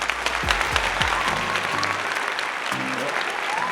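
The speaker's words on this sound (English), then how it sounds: "let's hear it for Simona" Applause from a crowd fills the whole stretch, steady and close, with a voice talking over it at times.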